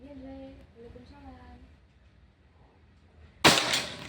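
A single sharp shot from a Bocap Pajero Gun Gen 6 air rifle during an accuracy test, coming near the end right after someone speaks, with a short ringing tail.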